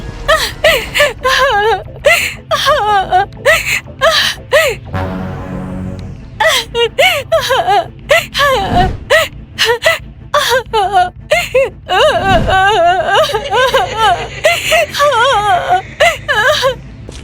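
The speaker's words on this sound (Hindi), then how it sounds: "उसे जोर जोर से किसी लड़की के रोने की आवाज आती।" A voice wails and whimpers in long, wavering cries broken by gasps, sustained and close, sounding like someone sobbing loudly.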